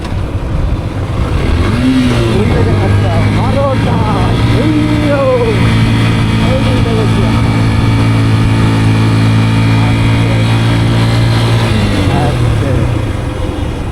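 A motorcycle engine descends a steep, rough downhill mountain road in Bandarban near Keokradong, a continuous loud low drone with shifting revs, while voices talk over it throughout.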